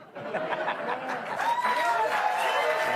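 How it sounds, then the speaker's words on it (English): Studio audience applause from a televised political monologue, a steady wash of clapping with scattered laughter and crowd murmur throughout, fairly close and sustained. "Big applause."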